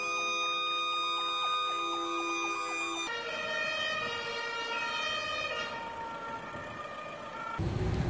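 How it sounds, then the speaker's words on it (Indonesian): A toy fire truck's electronic siren wails loudly and continuously, its pitch cycling and shifting partway through, ending with a rough burst of noise. "ini kan mobil pemadam kebakaran"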